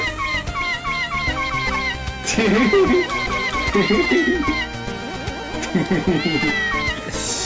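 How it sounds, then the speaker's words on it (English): Repeated synthesized cat meows from the Mega Man Maker video game, several short rising cries in a row over busy chiptune music and sound effects, with people talking over the game. "Cat meowing!"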